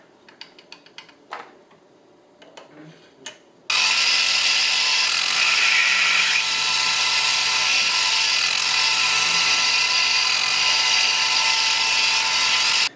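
A power drill opens out mounting holes to 3.5 mm for M4 tapping during an instrument cluster conversion on a 1976 Mazda RX-5. A few light taps and clicks come first, then the drill runs as a loud, continuous, even whine until the end.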